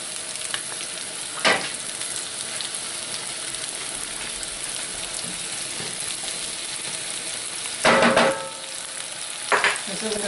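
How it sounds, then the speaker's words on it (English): Chicken with sesame seeds and garlic sautés in a pan with a steady close sizzle and crackle, and a few louder stirring scrapes and clatters come at intervals. "so I just want to get this lightly sauteed up"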